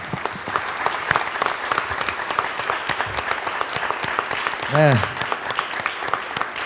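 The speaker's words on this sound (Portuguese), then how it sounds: "eu queria pedir à igreja que desse uma salva de palmas para o irmão Paulo Assis" A church congregation claps in a salva de palmas for a brother being honored, steady applause with a faint voice and a brief tonal sound in the middle.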